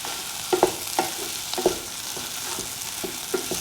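Soya chunks and egg sauteing in a stir fry pan, with repeated scraping spatula strokes over a steady background sizzle, close and moderately loud, no talk.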